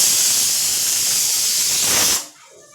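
A loud, steady steam hiss from a pressure cooker whistle cooking Maggi noodles, blasting continuously for about two seconds, then cutting off abruptly into near silence.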